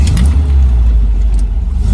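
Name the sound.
1968 MGB Roadster engine starting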